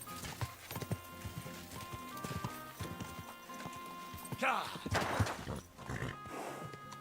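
Horse hooves clip-clop steadily in the medieval game Kingdom Come Deliverance 2. The near, rhythmic footfalls are joined by louder rustling bursts of game sound toward the end.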